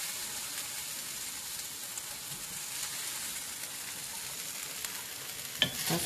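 Flank steak and charred onions sizzle in a pan with a steady, even hiss, faint and unbroken, ending with a single soft clink of a utensil.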